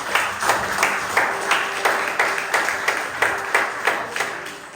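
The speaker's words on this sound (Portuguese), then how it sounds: "Aplauda o Senhor Jesus." A church congregation claps in a steady rhythm, a dozen or so regular beats over a few seconds, with a faint sustained tone underneath.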